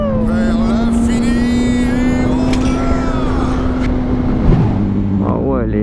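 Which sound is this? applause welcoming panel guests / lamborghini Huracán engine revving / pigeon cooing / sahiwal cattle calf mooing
lamborghini Huracán engine revving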